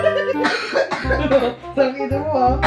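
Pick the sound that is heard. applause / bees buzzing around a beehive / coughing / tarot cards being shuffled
coughing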